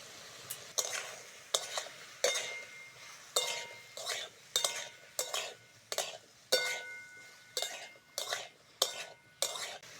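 Onion, tomato and ginger-garlic paste fry in a pan, broken up by about a dozen sharp, regular stirring scrapes and clinks of a spatula against the metal over a steady background sizzle.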